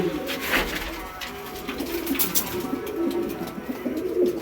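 Pigeons coo repeatedly in a loft where birds, including young ones, are out sunning, with low throaty calls overlapping over steady background noise and no talk.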